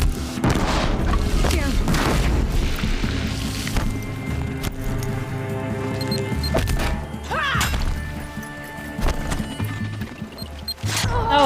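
Proximity bombs go off in Horizon Zero Dawn, heavy booms and crashing impacts thumping repeatedly through dense game action, with a person talking over the noise.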